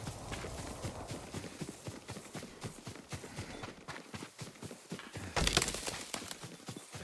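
Horse hooves clip-clop at a walking pace in Ghost of Tsushima, a steady string of close, distinct hoofbeats. Near the end a louder, brighter burst of noise rises over the steps.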